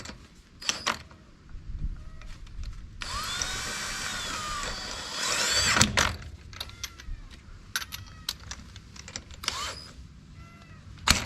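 A 1/2 inch impact wrench tightens bolts on leaf springs during a squarebody truck drop spring install, with a loud sustained rattling burst of a few seconds amid clinks of tools and hardware nearby.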